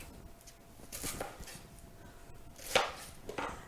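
A knife slicing a big sweet onion in half, a few soft crunching cuts and one sharper thunk on the board, quiet and close with no talk.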